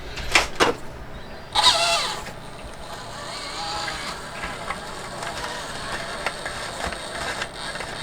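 A Furitek Micro Python RC crawler drives in slow crawl mode, its tiny motor and gears whirring steadily with a few sharp clicks and knocks near the start, close by.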